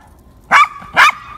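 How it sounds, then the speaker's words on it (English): A dog barks twice in quick succession beside the Cheonggyecheon stream. The sharp, loud, close barks are roughly half a second apart and ring out with an echo in an otherwise quiet setting. "your bark is echoing"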